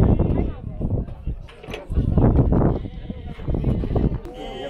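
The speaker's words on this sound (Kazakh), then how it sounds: "Міне бір ірі қошқар, бағасы 80 мың." A large ram among sheep bleats at a livestock bazaar in Zharkent, the calls rising over busy market chatter and nearby voices, with several overlapping animal cries heard close by.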